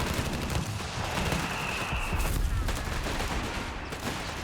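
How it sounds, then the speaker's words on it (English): Machine gun fire in a Company of Heroes 3 battle, a continuous rattling fusillade that stays loud and dense throughout amid busy battlefield noise. "gets around the side on the machine gun"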